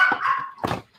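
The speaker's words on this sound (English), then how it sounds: "So if you can hear the barking, that's what it is." A dog gives a couple of short barks nearby, with a whiny, drawn-out edge, in an otherwise quiet room.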